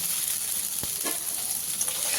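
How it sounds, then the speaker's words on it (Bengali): Potatoes frying in a pan over medium heat give a steady, fairly soft sizzle with a couple of faint stirring scrapes, no talking. "মিডিয়াম আঁচে এই আলুটাকে ভাজা হতে দেব।"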